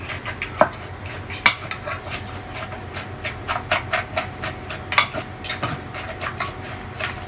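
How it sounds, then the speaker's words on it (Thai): Papaya salad pounded with a pestle in a mortar, a run of irregular knocks and clacks of wood and clay, some sharper louder hits, close by with no talking. "ค่อยโขลกครับเดี๋ยวโขลกแรงครับ"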